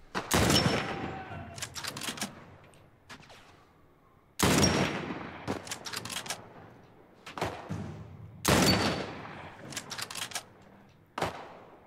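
Gunfire in The Last of Us Part 1 arrives as three heavy shots spaced a few seconds apart, each ringing out into a long echoing tail, with smaller cracks scattered between them.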